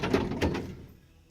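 A custom-made toolbox drawer is pushed shut and its spring-loaded channel locking mechanism catches, giving two quick close thuds and then a fading rattle into quiet.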